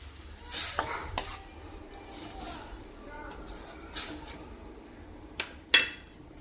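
Dal poured into spinach frying in a pan for dal palak tadka, then stirred with a utensil; soft sizzling runs underneath, broken by a few sharp scrapes and clinks of utensil against pan, with no talking.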